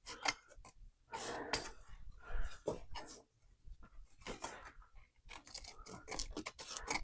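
Scissors snipping through wire ribbon for vintage-style Christmas decor, a few close crisp cuts and scraping rustles with short pauses between them.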